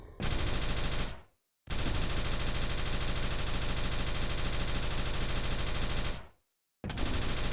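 Rapid continuous weapon fire in the Quake 3 DeFRaG game, long dense bursts of rocket shots broken by two brief silent gaps, loud and uniform throughout.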